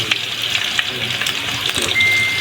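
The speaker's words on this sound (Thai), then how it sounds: "ทอดไปเลยเนาะทอดไปให้มันเหลืองเนาะ" Pork frying in a pan, a steady close crackling sizzle with scattered pops and spits throughout, briefly swelling louder near the end.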